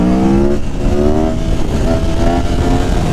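An Aprilia Tuono Factory naked motorcycle pulls hard in second gear, its loud, close engine note climbing steadily in pitch through a brief dip, with no voices over it.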